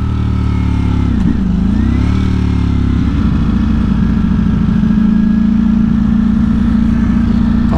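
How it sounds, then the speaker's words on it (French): A 2022 Ducati Streetfighter V4S motorcycle engine rumbles loudly and close, with a deep, steady low growl that dips briefly then settles into a sustained, throaty drone, with no talk over it. "Par contre la sonorité vraiment elle est ultra présente en bas là, ça gronde, ça c'est vraiment sympa."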